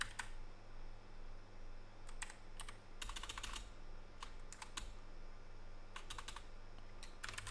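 Someone types on a computer keyboard, using the arrow keys to edit text. Quiet, crisp clicks come in short clustered bursts separated by pauses, over a low steady hum.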